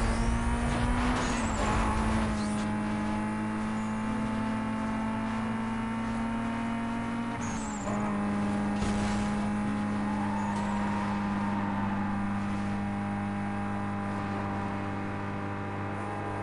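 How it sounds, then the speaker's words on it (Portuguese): Starter car in NFS Most Wanted straining uphill, a steady droning engine note that holds at a laboured pitch with a brief dip midway, continuous and fairly quiet, with faint road noise. "É na subida que você vê que o carro de início de jogo não sobe"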